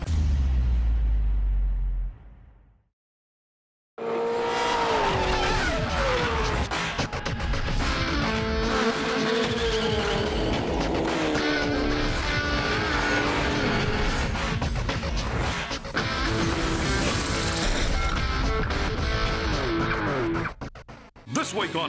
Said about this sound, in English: we go Suzuki Sport Cup Racing in Timaru